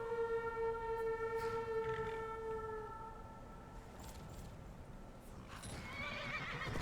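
Horses in Skyrim neigh loudly in a long, shrill whinny, followed by softer snorts and scattered hoof clatter over a steady game ambience.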